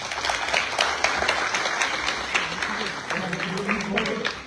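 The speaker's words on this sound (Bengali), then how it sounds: "তার জন্য সত্যি একটা জোরে হাততালি দেওয়া উচিত" An audience claps steadily after a special film screening, a dense wash of applause that holds at an even level throughout, with some voices mixed in underneath.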